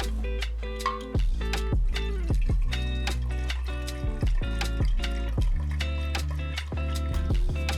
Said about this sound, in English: I gotta get this thing decanted.